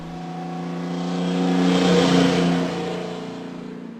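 A car engine revs up steadily, rising to a loud peak around the middle and then easing back to a lower, steady drone.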